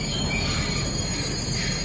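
Freight train carrying trucks on a Swiss rolling highway, a steady loud rumble of rail cars with continuous wheel noise and some squeal, no voices.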